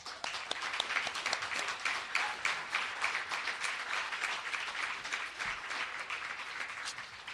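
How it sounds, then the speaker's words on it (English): Steady applause from an audience honoring program alumni at a fellows' demo day, dense even clapping that carries on at a consistent level throughout. "I want to give our alumni who have helped a round of applause"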